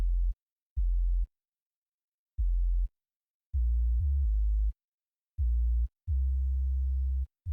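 Deep sub-bass sine tones from a Serum synthesizer patch pulse on and off in short and longer bursts, smooth and humming with silence between notes.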